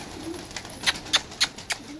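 Pigeons gather on a house rooftop, giving soft, low coos with a few sharper ticks in a loose rhythm. The sounds are faint and a little distant against a quiet outdoor background.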